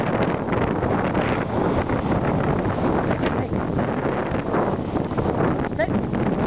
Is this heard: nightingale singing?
no